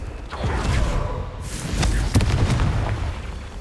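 A Confringo fire-blast spell explodes in the video game Hogwarts Legacy, a series of close, booming bursts and thuds with whooshing swells over a continuous low rumble.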